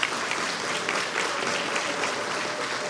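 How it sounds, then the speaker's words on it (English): A crowd applauds steadily for a few seconds, a dense, even wash of clapping, at a health sciences graduation ceremony. "Please give them one more round of applause."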